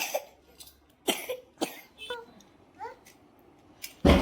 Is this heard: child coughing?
yes